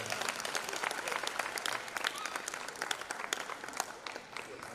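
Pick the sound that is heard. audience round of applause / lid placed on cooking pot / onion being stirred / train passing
audience round of applause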